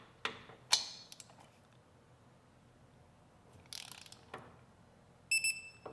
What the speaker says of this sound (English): let's see if I can go ahead and torque this thing down to 18 foot-pounds.